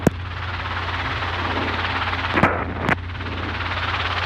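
A steady, loud broadband whine and rotor roar fills the scene continuously, broken by a few sharp clicks, as from inside a helicopter cabin during a solo flight over Austin.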